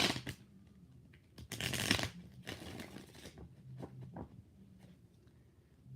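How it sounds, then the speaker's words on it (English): A deck of tarot cards is shuffled by hand in several quick, riffling bursts separated by short pauses, close and crisp in an otherwise quiet room. "4 shuffles for Rashima Simmons"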